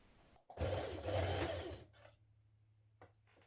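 A sewing machine stitches the centre back seam of a knit dress collar in one close, loud burst of about a second and a half, then falls to a low hum and soft clicks.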